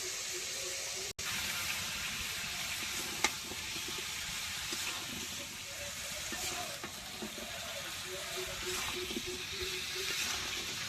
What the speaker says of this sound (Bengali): তরকারিতে বলক গেছে